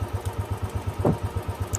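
Royal Enfield Classic 350 idling close by, its exhaust thumping in an even, quick pulse with a light mechanical clatter and one brief blip partway through.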